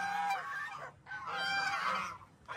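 Geese honking loudly and close by in rural Guimba, Nueva Ecija, Philippines, a run of harsh nasal calls with a brief pause in between, then more honking.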